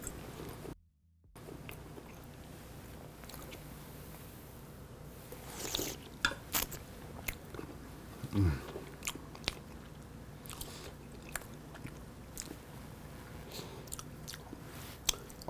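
Someone bites into and chews a croque monsieur close up, giving soft crunches and moist squishing at irregular moments against a quiet background.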